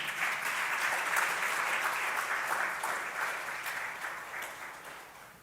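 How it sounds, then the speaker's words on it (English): Light applause at a Nigerian gender programme launch event, a steady, moderate crowd clapping that gradually fades over several seconds, with no talking. "I think the applause was a bit lean"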